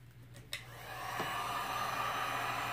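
A blower starts after a click and builds to a steady, close whooshing rush of air over artwork, holding level to the end.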